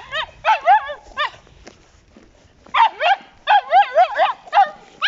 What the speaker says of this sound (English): That's an excited bark.